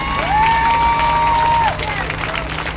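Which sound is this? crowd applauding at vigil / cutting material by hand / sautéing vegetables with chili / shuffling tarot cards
crowd applauding at vigil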